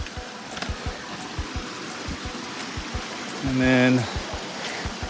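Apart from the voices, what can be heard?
stream flowing beside a hiking trail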